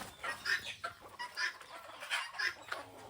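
Country chickens, including a breeding hen, cluck in a steady series of short, soft calls at a moderate distance, with no talking.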